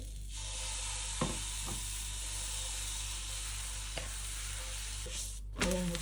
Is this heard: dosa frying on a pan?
yes